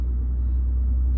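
A car's engine rumbles steadily with low road noise while a learner driver presses the accelerator during a driving lesson, the tone fairly constant and close.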